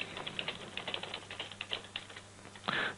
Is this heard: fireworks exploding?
no